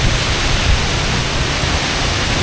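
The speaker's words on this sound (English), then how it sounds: "Here are some more shots of the waterfall." A glacier-fed waterfall roars as a loud, steady broadband rush, close and constant with no breaks or voices.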